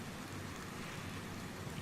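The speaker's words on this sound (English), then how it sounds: "It's raining now." Rain from a flight simulator's weather setting, a steady broadband hiss that holds an even level across the whole stretch with no breaks or other sounds.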